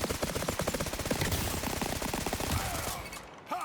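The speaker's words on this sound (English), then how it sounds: "So it gives you that rapid fire M4" Rapid-fire M4 rifle in the video game Off The Grid, a dense continuous automatic burst of quick evenly spaced shots lasting about three seconds, loud and close, then abruptly cutting off.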